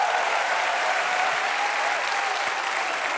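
An audience claps steadily in a dense, even burst of applause for a Mapo fire station firefighter during a classroom-style comedy sketch, filling the room without pause for several seconds.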